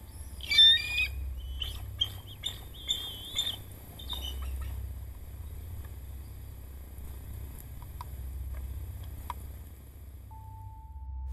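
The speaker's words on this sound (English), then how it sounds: "Two bald eagles walk around and fly around and chirp." Two bald eagles on a trail camera give a few sharp, high chirping calls in a quick cluster near the start, then fall quiet under a faint steady outdoor hum.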